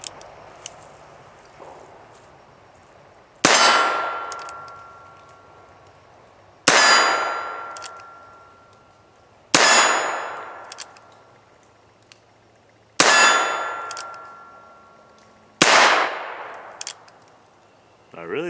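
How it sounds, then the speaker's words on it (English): Heritage Rough Rider .22 LR single-action revolver fired at steel targets outdoors: five loud, sharp metallic clangs spaced a few seconds apart, each ringing out and decaying, with no talking. "we'll shoot a few cylinders since it only holds 6 and it's single action"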